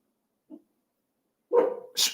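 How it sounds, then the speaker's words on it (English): A dog indoors gives a short woof, then a louder bark after a pause and a sharp yelp, close and alone with no talk. "Whenever someone like walks by, Mika gets very, barks and everything else"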